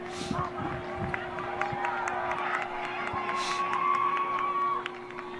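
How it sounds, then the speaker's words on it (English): Spectators at a high school boys lacrosse game between the PWHS Cyclones and Denver North cheer and whoop at a moderate distance, with scattered shouts rising briefly under a commentator's ongoing voice. "Crowd getting a little excited."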